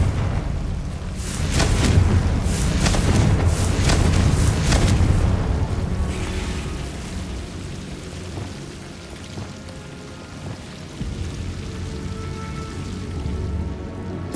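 A Confringo blasting spell bursts in Hogwarts Legacy, a loud rumbling explosion with crackling debris that swells for several seconds and then fades into a lingering low roar.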